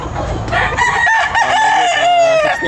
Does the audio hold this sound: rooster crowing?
yes